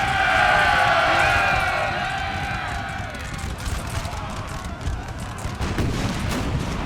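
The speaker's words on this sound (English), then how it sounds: "they're gonna run straight into cannon fire and musket fire" Cannon and musket fire crackle in the Napoleon Total War battle game, a dense ongoing rattle of gunfire with booms under a fading high whistling tone, fairly loud and continuous.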